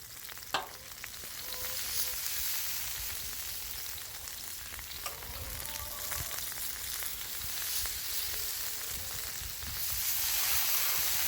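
Butter sizzles and crackles on a hot Blackstone flat-top griddle, a continuous close frying hiss with occasional scraping taps, building a little louder toward the end.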